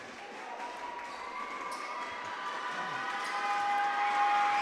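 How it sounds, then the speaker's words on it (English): Crowd noise from a basketball game between the Indiana Lyons and Peoria Pitbulls, a broad steady roar that builds louder over several seconds, with a faint whistle-like tone in the mix. "Crowd making a ton of noise"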